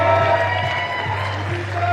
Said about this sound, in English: Round of applause for Luis, everybody!